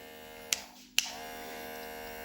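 A low-powered electric hair clipper running quietly with a faint steady hum, interrupted by two sharp clicks near the start.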